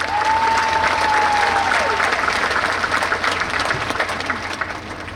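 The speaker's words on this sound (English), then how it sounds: "give yourselves a round of applause." A graduating high school class applauds at a commencement ceremony, a loud, dense wash of clapping from a large crowd that holds steady for about five seconds and eases slightly toward the end.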